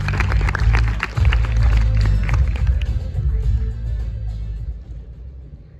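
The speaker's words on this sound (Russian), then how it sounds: "Поприветствуем бурными аплодисментами!" Audience at a stage performance of Yevtushenko's poem "Great You Are, Russia" breaks into sustained, dense applause with a low crowd rumble underneath, steady at first and gradually thinning toward the end.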